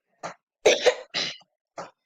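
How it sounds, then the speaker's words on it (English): A person nearby gives a string of four short, harsh coughs with pauses between them, the second a doubled hack, alone against silence. "Sorry for the coughing."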